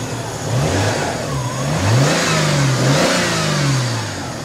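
Subaru Alcyone car engine revs in a series of smooth rising and falling throttle blips over a steady idle, close and fairly loud with no talking.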